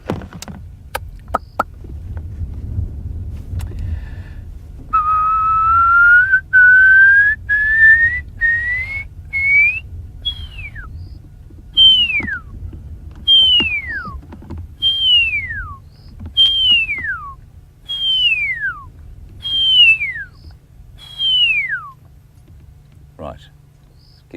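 A person whistles to imitate a pearl-spotted owl's call. A series of rising whistled notes climbs steadily, then about eight sharp descending whistles follow at regular intervals over a low background rumble.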